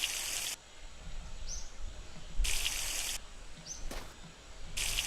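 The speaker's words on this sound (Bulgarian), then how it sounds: "И пием вода." Drinking water in the video game The Long Drive: three short, sharp gulping bursts spaced a couple of seconds apart, loud against a quiet, faintly hissing background.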